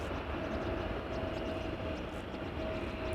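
Engines of a 19-year-old Delta Airlines jet, Flight 135, roar at Amsterdam Schiphol Airport as a steady, distant, broadband rumble with a faint high whine running throughout.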